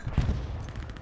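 Short burst of automatic rifle fire in the World War II shooter Hell Let Loose, a few rapid shots packed together at the start and then a fading rumble of gunfire.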